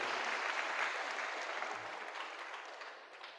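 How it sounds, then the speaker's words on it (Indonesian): A seminar audience applauds in a steady, even wash of clapping hands that holds for a few seconds and slowly tapers off, with no talk standing out. "tepuk tangan untuk kita semuanya hari ini."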